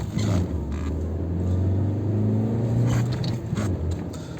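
Honda CR-V with 4x4 on Yokohama winter tires rolls through slushy snow, giving a low steady engine rumble with wet splashing and scraping bursts from the tires, close and continuous with no talk.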